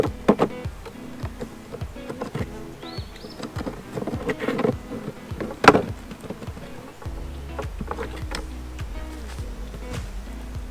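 Honey bees buzzing around an open hive during a spring inspection after package installation, a drifting insect hum with clicks and knocks of frames and tools handled close by.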